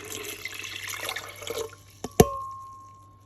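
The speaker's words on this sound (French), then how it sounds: "Que je vais verser dans le blender." Liquid is poured into a blender for semolina crêpe batter, with a soft running splash followed by a single sharp clink and a fading ring close by.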